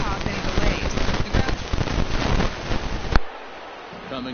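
Steady light rain falls during a baseball game in a video game, a dense hiss of drops pattering on surfaces that runs loud and continuous before dropping off abruptly near the end.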